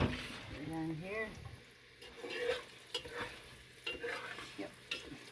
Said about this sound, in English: Frying up nice and crispy.